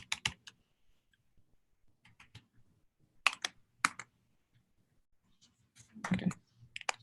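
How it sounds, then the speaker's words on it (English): Sparse, irregular bursts of typing on a computer keyboard, short clusters of crisp key clicks separated by pauses, close and quiet with no talking. "typing without a thumb is complicated"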